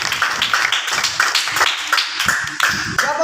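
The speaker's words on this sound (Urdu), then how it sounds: "زوردار تالیاں اس بات کے لیے" A church congregation claps loudly at a Bible study gathering, a dense, rhythmic burst of many hands close by that carries steadily for a few seconds without any talking.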